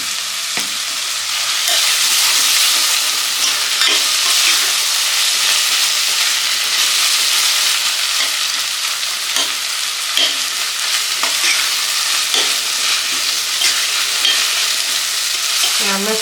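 Onions and tomato sauté in a hot pan for a prawn fry, giving a steady broadband sizzle with repeated scraping stirs of a spoon, close and continuous.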